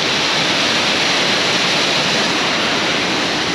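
A small waterfall at a hill station pours in a steady, loud, unbroken rush of flowing water that fills the whole stretch, with no voices.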